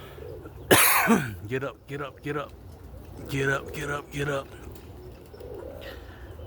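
Roller pigeon hens coo in a short series of soft, throaty, repeated calls after a loud nearby burst, with a person speaking briefly in between.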